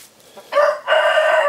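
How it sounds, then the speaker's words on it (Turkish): A chicken, one of a village hen and a Japanese hen, gives a short, close call in two quick bursts. "iki tane tavuk kurkta. Birisi köy tavuğu, birisi de Japones."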